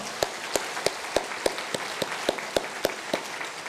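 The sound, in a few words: church congregation applause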